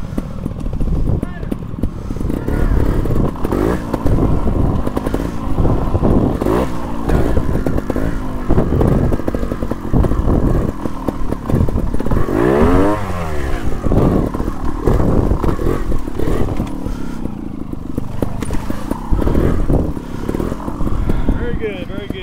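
A trials motorcycle engine in first gear revs and putters in uneven bursts through an outdoor trials course at Rockcrusher Farm, loud and close, with voices talking over it throughout.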